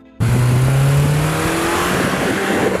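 Subaru Forester accelerating hard after a sudden start, a loud close engine note rising steadily in pitch over a couple of seconds, alone without talk.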